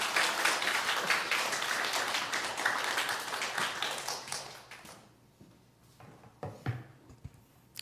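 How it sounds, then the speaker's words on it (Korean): A church congregation claps to welcome a missionary to the stage, dense applause filling the room for about five seconds before thinning into a few scattered claps. "우리 선교사님 나오실 때 큰 박수로 환영해 주시기 바랍니다"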